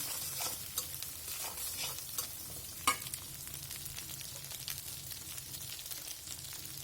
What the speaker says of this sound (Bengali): ডিমটা দিয়ে একটু তাড়াতাড়ি নাড়তে হবে, না হলে ডিমটা জমাট বেঁধে যাবে